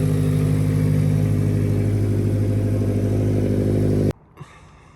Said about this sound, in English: Motor sounds quiet.